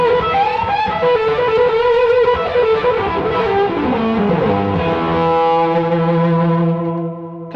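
Electric guitar played through a Marshall Category 5 amp, a beefed-up Super Lead, with a distorted, effects-laden tone; sustained chords and melodic lines ring out continuously, then settle into held notes that fade at the end, with no talking.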